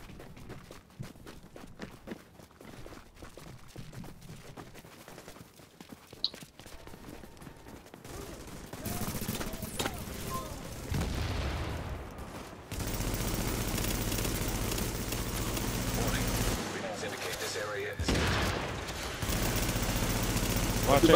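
Rapid bursts of gunfire in a video game manhunt, scattered shots and footsteps at first, then denser, louder volleys and machine-gun fire building through the second half, with a voice talking intermittently over the action.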